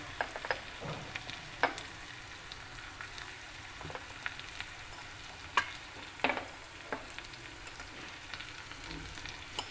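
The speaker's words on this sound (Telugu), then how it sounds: "పసుపు వేసి బాగా కలుపుకోవాలి" Turmeric stirred through a frying onion base for egg and tomato curry: low, continuous sizzling broken by intermittent spoon scrapes and knocks against the pan.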